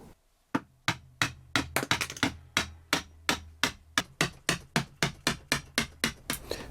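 Repeated sharp hammer-like blows striking the plastic case of a PowerUrus 12.8V LiFePO4 battery during a teardown, about twenty loud, evenly spaced impacts that quicken briefly in the middle.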